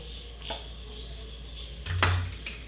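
Metal utensil scraping and clinking against a pan while kadai chicken is stirred, a few light taps then a louder clatter near the end, with no talk.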